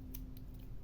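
Scissors snip a strip of paper for an art journal collage, three or four quick, close, crisp cuts in under a second over a low hum.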